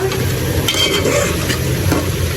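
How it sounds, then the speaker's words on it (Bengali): Potato and pointed gourd curry sautés in a wok with a steady low sizzle, broken by a few light scrapes and clinks of a stirring utensil against the pan. "কষানো হইতেছে"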